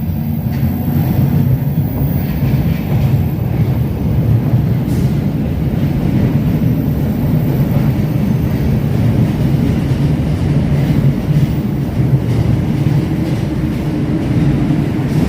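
Loud, steady rumble of a subway train running on tracks, a continuous low roar with faint rattling throughout, close and unbroken.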